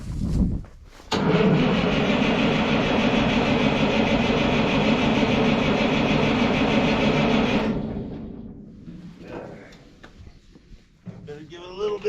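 A Michigan Loader engine cranks and catches, then runs loud and steady for several seconds before fading to a rough idle, with a voice speaking near the end.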